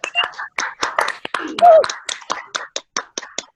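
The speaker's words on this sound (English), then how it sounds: "a thunderous round of applause for the Toastmasters of the day" A small group claps for the Toastmaster of the day at an online Dubai Toastmasters club meeting. The claps are sparse and uneven, close to the mic, with brief voices mixed in.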